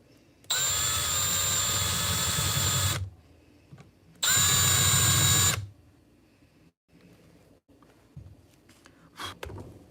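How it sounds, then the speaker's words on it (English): Two loud, steady bursts from a power drill, each a couple of seconds long with a short pause between, followed by quieter workshop clatter in a shed. "But let's get back to drilling."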